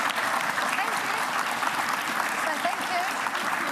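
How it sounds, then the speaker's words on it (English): Audience applause at a Launceston Grammar and Sony Foundation Christmas Camp event, dense and steady clapping from a large crowd sustained for several seconds at even loudness, with talk faintly mixed in. "Give them a round of applause, everyone."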